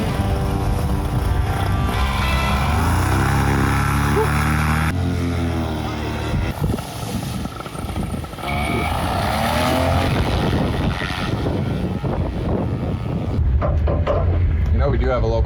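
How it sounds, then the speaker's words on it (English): Two RC helicopters, one a new factory R on its maiden flight, spooling up and launching together, a loud continuous rotor and motor whine that shifts in pitch, with people talking over it. "Look at these two. They always launch literally inches apart."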